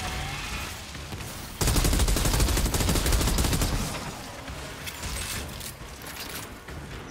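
Legendary gun in the shooter game Outriders firing a sustained burst of rapid, loud shots that rattle densely for several seconds, then thin out into scattered bangs and mechanical clatter.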